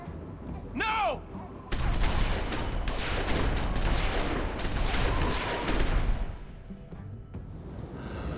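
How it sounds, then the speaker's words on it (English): Gunfire erupts in The Walking Dead video game, with a rapid volley of overlapping shots and booms after a short whistling sound, loud and dense for several seconds before tapering off. "The episode ending as gunfire breaks out."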